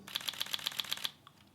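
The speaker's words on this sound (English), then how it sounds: "if you have a really fast shutter, it's gonna sound like this" A camera shutter fires at a fast speed in a quick burst of about eight sharp, even clicks in under a second, close and fairly quiet, then stops.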